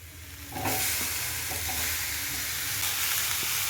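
Chopped tomatoes are stirred into browned fried onions in a pan for paneer butter masala, and a steady frying sizzle swells loudly once they go in, with soft scraping stirs on top and no voices.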